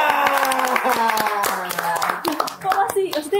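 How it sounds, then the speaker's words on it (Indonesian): Hands clap in quick, uneven rhythm, close and fairly loud, mixed with lively voices talking over the applause. "Tepuk tangan."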